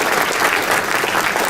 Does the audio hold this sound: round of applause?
yes